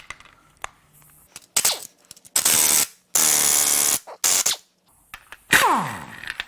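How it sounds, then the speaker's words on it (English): Bolts being loosened on the cam gears of a Mercedes M137 5.8L V12 engine during teardown, heard as a series of loud, close ratchet bursts with sharp metallic clicks separated by brief pauses. "The next thing I'm going to do is remove the cam gear bolts, as there's the most tension on it with everything still complete"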